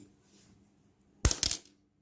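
A metal nail cutter drops onto the floor, giving one bright clatter and a quick second bounce before it goes still, heard close and alone.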